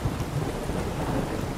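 Rain in The Witcher 3 falls in a brief, quiet stretch of storm ambience, a low rumbling wash with soft pattering and no voices.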